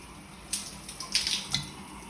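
Water running from a Kohler shower faucet with a clogged pressure-balancing cartridge, a soft steady stream with a few brighter splashes and spatters rising above it, fairly quiet and nearby.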